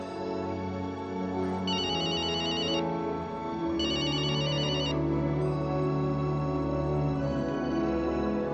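A telephone rings in two bursts of bright electronic trilling. It sounds over a steady indoor background with no talk.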